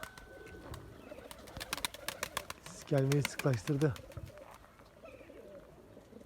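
Pigeons coo in a short burst of throaty calls, mid-distance, over soft ambient noise and scattered clicks, with people talking intermittently; a young blue pigeon on an early training flight.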